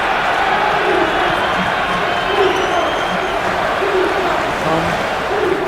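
Steady roar of a simulated arena crowd at a college basketball tipoff tournament game, continuous and fairly loud with rising swells of cheering, heard under commentators talking.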